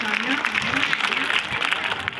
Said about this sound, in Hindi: एक बार फिर से इन सभी भामाशाहों के लिए जोरदार तालियां।